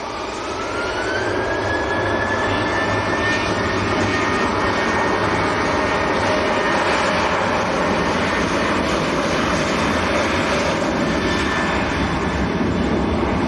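Jet2 Airbus A321 airliner pushing back at Manchester Airport, a steady loud jet engine roar with a rising whine, continuous and close for the whole stretch with no talk over it.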